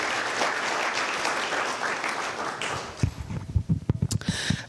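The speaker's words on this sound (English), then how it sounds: "another round of applause for this great" Dense applause from an audience at a film festival fills the first few seconds, then thins into scattered individual claps and a few sharp taps.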